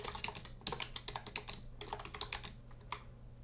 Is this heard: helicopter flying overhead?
no